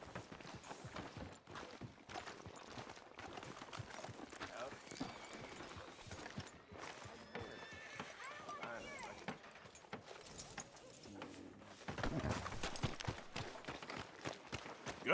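A horse's hooves clip-clop on a town street in the video game Red Dead Redemption 2, a quiet, irregular patter of hoof falls running throughout, with faint voices at times.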